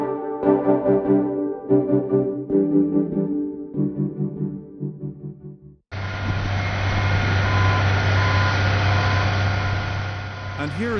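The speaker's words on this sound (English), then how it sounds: "a dump truck that is having a problem and is towed by another vehicle to the place of repair" A malfunctioning dump truck being towed by another vehicle to a repair site: a loud, steady heavy-engine drone with faint intermittent beeps starts halfway through, after an opening stretch of talking.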